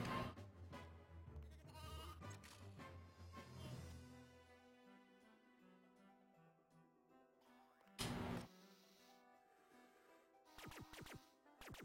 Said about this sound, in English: Bo Peep and her sheep.